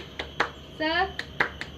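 A classroom does a rhythmic spirit clap pattern at a school lesson: sharp group claps in a quick even beat, broken by a short chanted shout from the children, then more claps.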